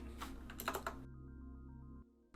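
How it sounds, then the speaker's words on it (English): Typing on a computer keyboard gives a quick flurry of close key clicks lasting about a second, followed by a low steady hum. "Really hate manually typing IDs."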